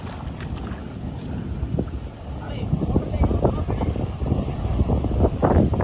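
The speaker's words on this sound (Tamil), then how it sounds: "கடலில் அலையில சத்தத்தை பாருங்கள் இப்படி நல்லா இருக்குது." Sea waves wash onto a beach with a steady roar and wind buffeting the microphone, building toward the end.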